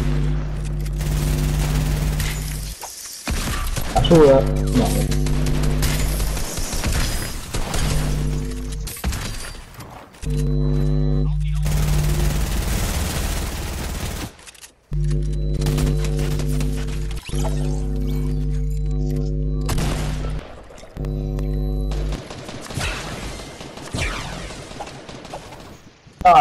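Repeated bursts of automatic gunfire in a trio arena shooter video game, loud sustained volleys separated by short gaps, with a player briefly speaking between them.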